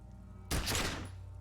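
A single loud gunshot blast from a firearm in the video game Disco Elysium bursts suddenly out of quiet and rings briefly before fading back to a low hum.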